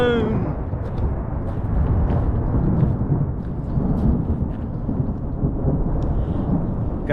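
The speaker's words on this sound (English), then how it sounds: "Gotten around to the back side of this thunderstorm." Thunder from the back side of a passing thunderstorm, part of a mesoscale convective system, rolls as a loud, continuous low rumble that swells and eases without a break.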